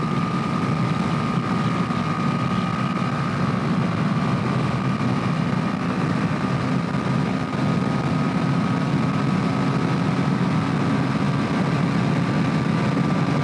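A loud, steady motorcycle engine drone with constant wind rush, running without a break as the bike cruises fast on an open, empty highway.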